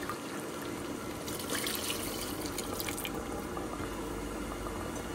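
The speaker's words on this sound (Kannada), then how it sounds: "ಇದಕ್ಕೆ ನಾವು ಕಾಯಿ ಹಾಲನ್ನ ಹಾಕೋತಾ ಇದ್ದೀವಿ." Coconut milk trickling and dripping into a simmering curry gravy, a steady close liquid pour with soft splashes over a continuous background hiss.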